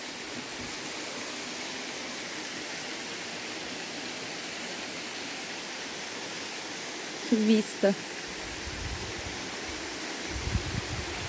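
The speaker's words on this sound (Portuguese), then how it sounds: "a cachoeira cai aqui" Steady rushing roar of a waterfall at Morro do Paxixi in Mato Grosso do Sul, constant broadband water noise heard from nearby, with a brief voice and a few louder thuds near the end.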